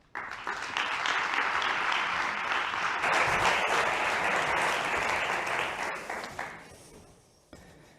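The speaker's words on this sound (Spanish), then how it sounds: "Vamos a darle un aplauso." An audience at a talk on religious education bursts into sustained applause that starts abruptly, holds full and dense for about six seconds, then thins and fades to scattered claps near the end.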